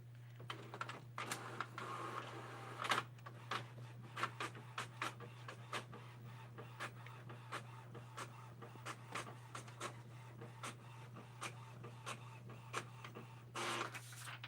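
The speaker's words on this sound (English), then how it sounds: "I'm just glad my printer's back working." A home printer runs through a page with a steady low motor hum under quick repeated mechanical clicks and ticks, close and fairly quiet, with no voices.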